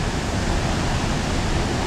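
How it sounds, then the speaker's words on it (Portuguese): Waterfall at Rio Celeste in Costa Rica, a steady broadband roar of falling water that holds constant and loud throughout, with no voices. "O som vai ficando mais alto. Você vai sentindo essa vibração da água, da energia"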